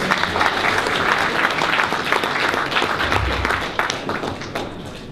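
An audience at a PAX Australia game trivia challenge claps for a trivia team, a full round of applause with many overlapping hand claps that holds strong for several seconds and then thins out toward the end.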